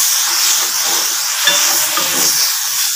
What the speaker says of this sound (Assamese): এইখিনি মই এতিয়া ভাজি আছোঁ আৰু ইয়াতে মই এতিয়া গোটেই মচলাখিনি দি দিম যাতে মচলাখিনিও ধুনীয়াকৈ ভজা যায়